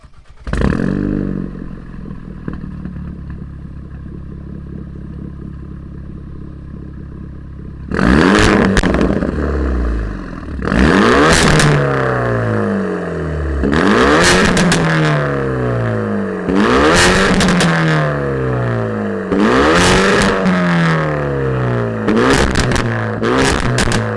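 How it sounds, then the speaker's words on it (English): Hyundai Veloster N engine idling quietly, then firing into a series of loud, sharp revs with falling crackles after each blip, about six bursts in quick succession, close by with no talking. "hear what his Veloster N sounds like"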